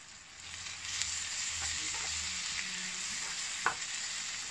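Ground coriander leaf, green chilli, ginger and garlic paste added to a hot pan for chicken biryani; steady soft hiss of frying with faint spoon scrapes and a sharp click near the end.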